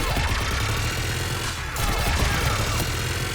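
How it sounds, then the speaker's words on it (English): Dense, continuous gunfire from a Mass Effect 3 battle, a steady wall of shots and crashes layered over a low rumbling background, loud and sustained without pause. "Just following the gunfire"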